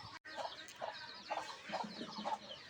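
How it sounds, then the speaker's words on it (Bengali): A domestic layer hen clucks close by in a short series of about five soft, evenly spaced clucks over a quiet background. "গৃহপালিত মুরগিটি এখন আবার স্থির অবস্থায় রয়েছে"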